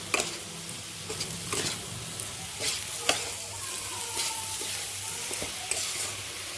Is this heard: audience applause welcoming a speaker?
no